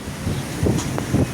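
Strong storm wind buffets the microphone in rough, rumbling gusts, surging and easing in short bursts, loud and close with no voices.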